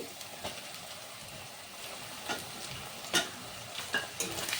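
Onion, garlic paste and chopped tomato sizzle gently in a pan for a Bengali fish and cauliflower curry, with a soft steady frying hiss broken by a few scraping stirs of a spoon, close and fairly quiet.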